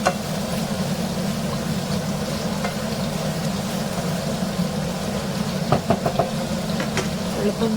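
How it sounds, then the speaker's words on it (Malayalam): Prawns and other ingredients frying in a pan for a Kerala-style prawn ularthu, a steady broadband sizzle running throughout with a few sharp clicks of a spoon stirring near the end. "ഇളക്കി ഒരുവിധം ലൈറ്റ് ബ്രൗൺ കളർ ആകുന്നത് വരെ ഒന്ന് ഇളക്കി കൊടുക്കാം"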